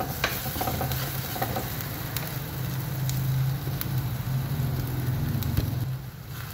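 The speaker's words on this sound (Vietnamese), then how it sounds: "mình sẽ cho củ hành tím vào luôn, tỏi để mình phi cho nó thơm á" Shallots and garlic sizzle and crackle steadily in a hot pan, with occasional stirring scrapes, close and continuous.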